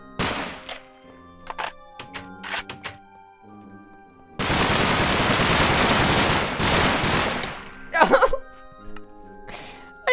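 Bursts of AK rifle fire in Minecraft, with short intermittent shots followed by a sustained, loud stretch of rapid gunfire lasting a few seconds, then more scattered shots.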